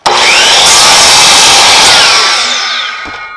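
A miter saw whines steadily through wood, loud and close, its pitch shifting as the blade bites, then winding down near the end.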